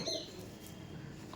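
Kaldom pigeons in a loft, soft low cooing repeating steadily throughout, close by, with faint higher chirps early on and no talking.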